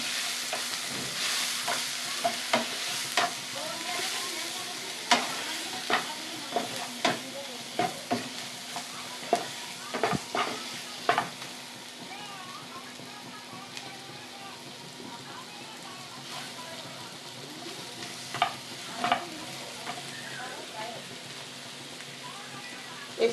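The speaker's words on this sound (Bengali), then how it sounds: "কাশ্মীরি লঙ্কা গুঁড়ো দিয়ে এটাকে লাল লাল করে ভেজে নেব" Paneer with papaya and Kashmiri chili powder frying and being stirred in a pan, a steady soft sizzle broken by repeated sharp scrapes and clinks of the spoon, with occasional speech.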